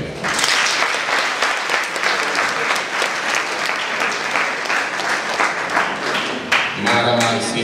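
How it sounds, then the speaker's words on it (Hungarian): A talent show audience breaks into sustained, loud applause that fills the hall steadily, with dense overlapping claps and a slight shift in texture near the end. "Ismét egy tapsot kérnék!"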